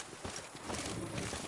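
Roach the horse's hooves clip-clop on the ground in The Witcher 3, a quick run of soft, close hoof thuds under faint ambient sound.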